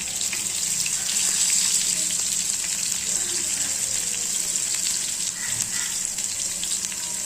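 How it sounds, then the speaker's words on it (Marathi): Garlic sizzles loudly in hot oil while tempering, a dense, continuous crackling hiss that holds steady throughout. "चांगली फोडणी देऊन घ्यायची"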